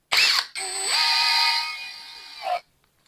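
An INGCO cordless drill running in hammer mode, a loud, piercing, whining tone with a rising pitch, heard close up in two bursts: a short one, then a sustained run that stops abruptly.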